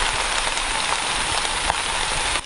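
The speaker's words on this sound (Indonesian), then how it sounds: "Hujannya dari mulai gerimis dan sekarang mulai deras." Heavy rain pours down steadily on a mountain hiking trail on Mount Ciremai, a dense loud hiss that stays constant throughout, with scattered drops pattering close by.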